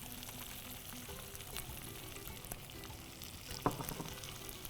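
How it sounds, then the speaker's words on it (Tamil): Green chillies, onion and green peas being sautéed in a pan: a low, steady sizzle with occasional light scrapes and a brief metallic clink near the end. "பச்சை மிளகாய் போட்டு நல்லா வதக்கு."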